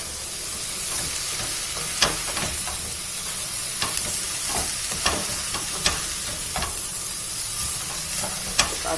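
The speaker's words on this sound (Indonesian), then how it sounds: "bawang bombaynya dengan paprika sudah jadi satu, ditumis kira 5 menit." Onion and bell pepper sautéing in a pan, a steady close sizzle with occasional sharp clinks and scrapes of a utensil stirring, no talk.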